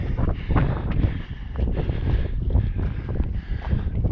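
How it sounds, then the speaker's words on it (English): Strong wind buffets the microphone near a hilltop summit, a steady broadband roar with irregular gusts throughout, loud and close, with no voices. "it's becoming a bit windy at the top here"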